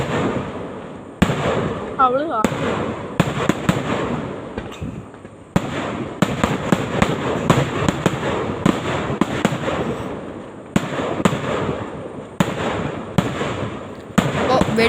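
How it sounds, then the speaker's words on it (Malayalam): Fireworks and firecrackers bursting at a Shivaratri festival, sharp repeated cracks and pops over a steady crowd murmur throughout, with a person speaking briefly in the mix. "അപ്പോൾ വെടിക്കെട്ടും പൊട്ടിത്തെറികളും സംഭവങ്ങളൊക്കെ അവിടെ നടക്കട്ടെ"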